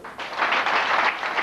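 Brief burst of applause from an audience at an awards ceremony, swelling quickly and holding at a steady, moderately loud level.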